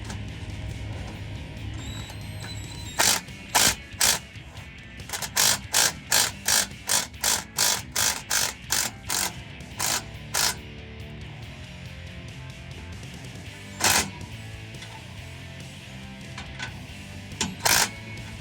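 A ratchet wrench tightening an exhaust clamp on a 2019-2022 Chevrolet Silverado 5.3L with a Magnaflow muffler delete, a long run of sharp, evenly spaced ratcheting clicks followed by a few isolated clicks, close and loud with no talking.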